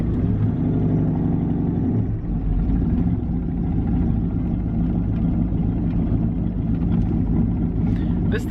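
A boosted street truck's engine drones low and heavy from inside the cab, a constant rumbling roar under steady acceleration that builds without easing, with a voice talking over it.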